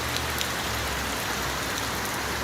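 Heavy rain pours outside a shuttle bus being converted to an RV, a dense, loud, continuous hiss of drops drumming on surfaces with no gaps and no talk.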